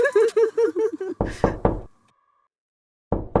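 In a dubbed film scene, a voice calls out, then three loud, quick knocks strike a door. After a silent pause, another round of knocking begins.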